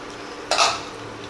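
A short burst of sizzling as food hits hot oil, rising suddenly and fading over about a second.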